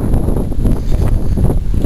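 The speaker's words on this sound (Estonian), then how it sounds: "Tuul puhub." Wind blows at the seaside, buffeting the microphone with a loud, low, rumbling roar that pulses unevenly throughout the short moment.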